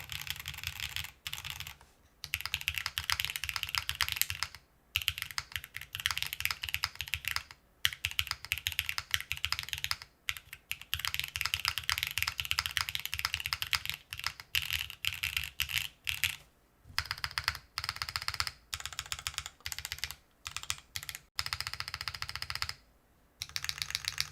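Someone types on an Enso-E mechanical keyboard fitted with PBT keycaps, producing rapid clacking keystrokes in close, continuous bursts with brief pauses between runs.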